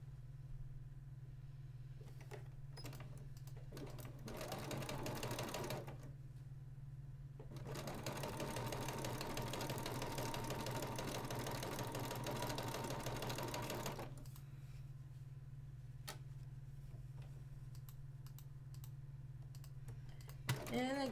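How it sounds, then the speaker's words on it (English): A sewing machine stitching quilt half-square triangle units runs in two loud bursts, rattling at a quick steady pace between quieter pauses, with a voice briefly speaking. "And we're going to sew on the other side."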